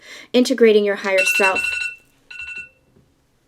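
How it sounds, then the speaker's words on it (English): A short electronic alarm ringtone chimes after a stretch of speech, ringing briefly in two tonal bursts and then stopping. "That's my alarm. That's my cue."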